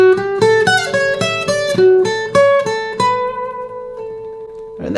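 A jazz guitar plays a lick: a quick run of clear plucked single notes with bright attacks, then a held final note that rings out and fades near the end, played alone and up close.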